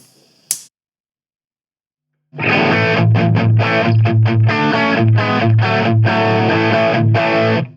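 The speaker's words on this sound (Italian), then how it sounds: "Ora andiamo ad ascoltare l'overdrive." A guitar runs through the overdrive of a Gokko MX300 analog pedalboard, playing loud, aggressive, gritty chords in a continuous rhythmic riff after a brief click and a moment of silence.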